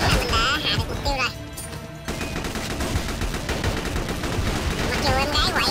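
Dense automatic gunfire from M4A1 and MG4 weapons in the online shooter Chiến Dịch Huyền Thoại rattles on continuously and loudly, with a voice speaking over the shots at the start and end.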